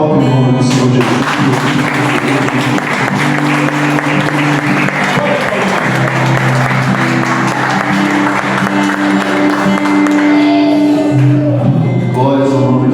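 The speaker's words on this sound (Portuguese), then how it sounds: "E se pode, aplaudam em nome do Senhor Jesus." A church congregation claps together in a garage worship service, a steady dense wash of applause running throughout over sustained music, with a voice speaking near the end.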